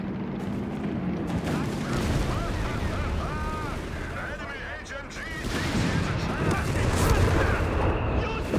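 Company of Heroes 3 battle with a dense, continuous mix of gunfire and artillery blasts, crackling bursts and heavier booms layered throughout at a steady loud level, with a voice talking over the combat.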